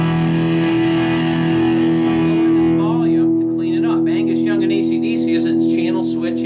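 Electric guitar played through the gain channel of a Blackstar amp, heavily distorted, with a sustained chord ringing out loud and then a few picked, gritty notes over the fading sustain, played alone.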